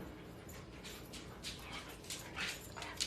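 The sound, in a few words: dog whimpering and knocking something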